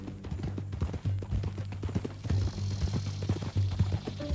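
Horse hooves clip-clop in Red Dead Redemption 2: a steady, rhythmic run of close, moderately loud hoofbeats continuing throughout, with light ambient noise beneath.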